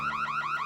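A wailing siren-like alarm sounds in the LEGO Marvel Super Heroes 2 video game, a loud, fast, repeating rising electronic tone heard alone with no voices.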